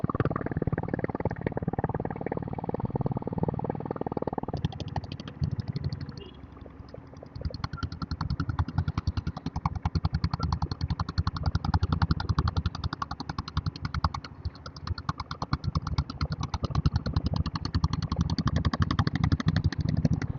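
Diesel Royal Enfield Bullet motorcycle engine running on a road toward Kodaikanal, a rapid, steady chugging thump that continues throughout and dips briefly twice, close and loud.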